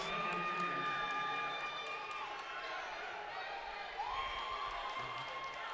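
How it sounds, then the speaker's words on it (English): Newton fans cheer at a high school basketball game in a gym, a sustained crowd roar with shouts and sneaker squeaks that stays under a commentator's steady talk throughout. "And you can hear the Newton faithful cheering them on."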